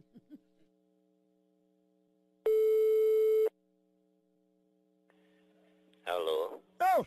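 Telephone busy tone during a prank call, one loud steady beep of about a second amid faint line hum, followed later by a short burst of voice.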